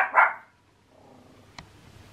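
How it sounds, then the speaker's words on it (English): A dog gives a single short bark close by in an indoor room, followed by quiet with a faint distant tap near the end. "Oh, he was barking at."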